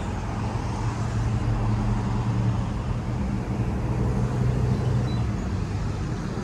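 Road traffic at the South Carolina Festival of Flowers in Greenwood, a steady low rumble of cars and heavier vehicles moving past at moderate distance, continuous and without talk.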